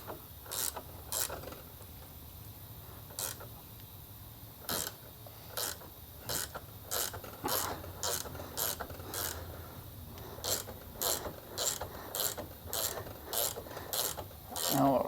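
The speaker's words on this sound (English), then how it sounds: "We're using a wrench." A wrench works on KDX200 swing arm bearings, repeated sharp ratcheting clicks and rasping strokes in uneven bursts, close and moderately loud with brief pauses between sets.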